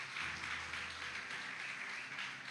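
A church congregation applauds, a faint, steady wash of clapping that holds for a couple of seconds.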